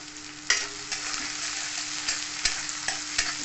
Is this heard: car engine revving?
no